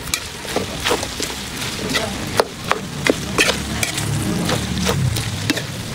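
Sliced kamias (bilimbi) sauté in a pan for dinuguan, a dense crackling sizzle with repeated scraping stir strokes, close and steady.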